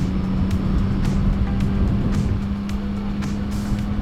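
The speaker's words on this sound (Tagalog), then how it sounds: "Naririnig ko yung makina mo sa intercom?" A motorcycle engine drones at a steady pitch through a thin, compressed intercom channel, with faint rhythmic ticks running under the hum.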